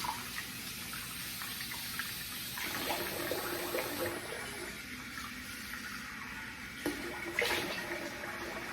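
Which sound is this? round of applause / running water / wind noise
running water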